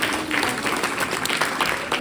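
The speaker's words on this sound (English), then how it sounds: "Clap for him please." An audience applauds at a robotics workshop, a short burst of dense, steady clapping lasting about two seconds at moderate loudness.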